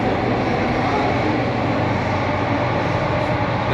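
A Mumbai metro train rumbles with a continuous loud, dense roar, steady throughout and close by, with no voices.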